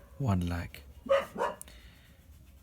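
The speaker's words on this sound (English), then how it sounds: "that's my dog barking" A dog barks a few times in the background, faint and indoors, behind a man giving a spoken lecture.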